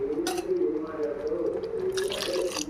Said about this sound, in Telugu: దాంట్లోకి మనం కొంచెం వాటర్ పోసుకొని మగ్గ పెట్టుకుందాము